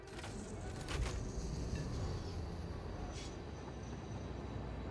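A train in the factory-building game Satisfactory rumbles along, a low steady rolling drone with a few faint higher clanks, heard continuously at moderate distance.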